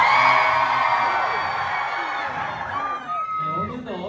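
A concert crowd at the Apollo Theater screams and cheers in a loud sustained roar that gradually thins into scattered whoops and yells near the end.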